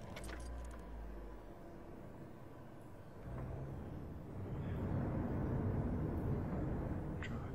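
Car engine and road rumble from the driving game Datura, a steady low drone that swells louder midway, with a few faint clanks and jingles at the start and again near the end.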